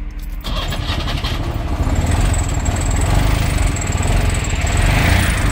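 A Trabant's small two-stroke engine cranks and struggles to fire, a continuous loud churning drone with rising revving, close by and with no talk.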